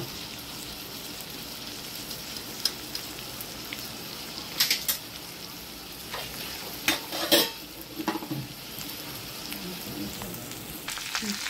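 Asafoetida hits hot oil for a potato curry, giving a steady sizzle and frying crackle with occasional stirring clinks from a utensil, close up and continuous.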